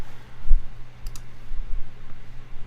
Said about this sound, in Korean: 저기 마우스를 누르면